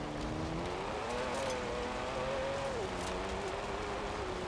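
Aston Martin V12 engine in Forza Horizon 4, a steady game-engine drone that climbs in pitch and then eases back, fairly close and continuous with a faint hiss behind it.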